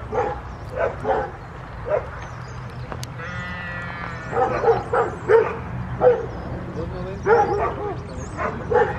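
A dog barks in repeated short bursts at a plant nursery, fairly close, with people talking over and between the barks.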